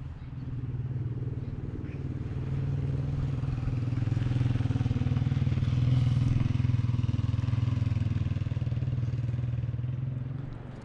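Motorbike traffic on a road in Pakistan: a steady, loud engine drone rumbles continuously throughout, swelling slightly in the middle, with no clear speech over it.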